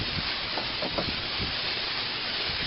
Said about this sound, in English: now we're rinsing, and I want to show you how fine. There's nothing high pressure about this. It's almost a mist. Very light rinsing.